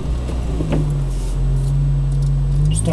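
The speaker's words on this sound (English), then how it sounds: "Starts up straight away, click straight over to LPG" A Citroen Nemo 1.4 LPG van engine turns over and catches quickly, then settles into a low, steady idle heard up close, with a brief rising rev and a few faint clicks.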